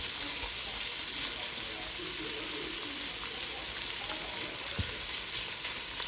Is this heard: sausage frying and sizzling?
yes